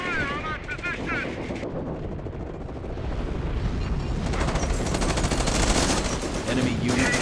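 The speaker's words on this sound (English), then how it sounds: "Heavy enemy fire on our position" Heavy, continuous machine-gun and rifle fire in the World War II strategy game Company of Heroes (Blitzkrieg mod), dense bursts building in intensity, with a shouting voice early on.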